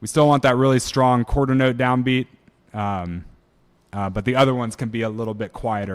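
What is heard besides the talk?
No everyday noises stand out.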